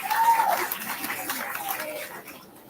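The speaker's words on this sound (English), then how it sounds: "Let's give them a round of applause really quick" Scattered applause for sponsors at a county fair steer livestock show, with mixed voices and chatter over it, the clapping tapering off toward the end.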